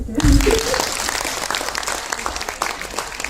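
Audience applause at the launch event of Bharatiya Sarvodaya Sansthan in the Andamans, a loud burst of clapping that continues steadily throughout with voices mixed in.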